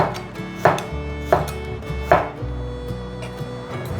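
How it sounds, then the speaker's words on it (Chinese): A knife slices ginger on a cutting board with three distinct, fairly loud chops spaced about three-quarters of a second apart. A low background hum runs under them. "把姜切片"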